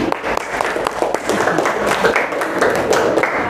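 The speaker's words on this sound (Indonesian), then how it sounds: "Ya, tepuk tangan lagi." A classroom group gives a round of applause during a teaching practice session, the clapping dense and continuous at moderate volume, with a faint voice now and then beneath the hands.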